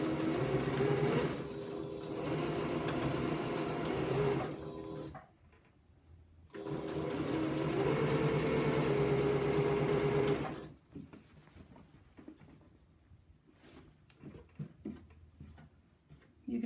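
A sewing machine pieces quilt rows in two long, steady bursts of close whirring stitching, separated by a short pause and followed by quieter handling sounds.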